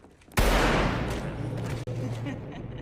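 A gunshot in the action crime film Samaritan, where a gangster leader shoots a man dead: one sudden loud blast followed by a long rumbling, echoing tail.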